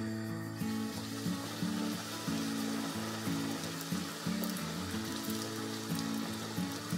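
Dough fries in hot oil, giving a steady soft sizzle with faint pulsing bubbling, close but quiet, with no talking.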